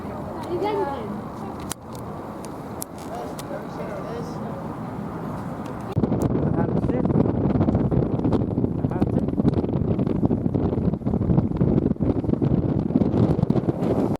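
Aboard a ferry bound for the Isle of Wight, strong wind buffets the microphone in a loud, continuous roar that grows heavier midway, with faint engine and water rumble beneath and a voice speaking briefly.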